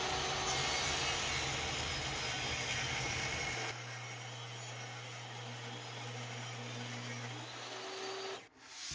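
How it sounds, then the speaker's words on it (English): A table saw squares the edges of a large maple end-grain cutting board, a steady hissing cut with a low motor hum that shifts midway into a cleaner whine, then briefly dips near the end. "Once finished sanding, I squared the edges again using my table saw."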